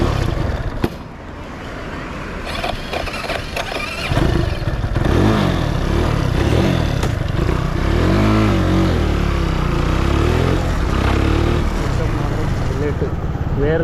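A motorcycle engine runs close by with a rough, pulsing idle and revving that rises and falls; the bike is a rare model with a starting problem, and voices are heard over the engine at times.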